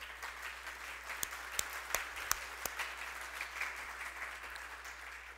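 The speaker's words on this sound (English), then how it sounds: "I want you to give him a round of applause" A small gathering claps steadily for a craftsman being thanked, a soft continuous patter with a few sharper individual claps standing out near the middle, holding at a fairly even level throughout.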